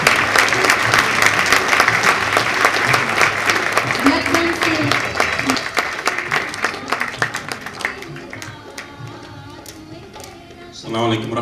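Audience at a Women's Day awards event in Yorkshire claps in loud, dense applause that thins into scattered individual claps and fades, while a voice speaks over the tail end.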